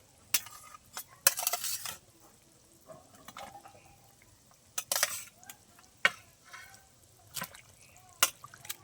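Fried fish pieces going into a simmering curry pot and being stirred, with soft scattered clinks and scrapes of a spoon against the pot, gentle bubbling underneath, fairly faint and close.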